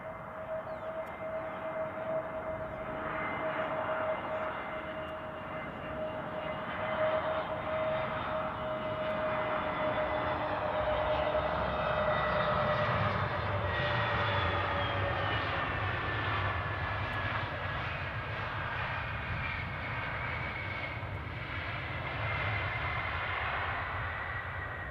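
An incoming airliner from Barcelona approaches Glasgow airport with a distant, steady jet engine drone and a whining tone, slowly building in loudness and then holding, fairly faint with no talk.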